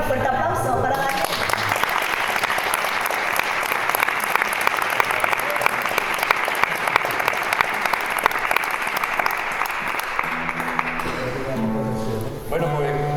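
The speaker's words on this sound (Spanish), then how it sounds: "un fuerte aplauso para Daniel" Sustained audience applause at a poetry event, loud and steady for about eleven seconds before fading, with music or voices emerging faintly at the end.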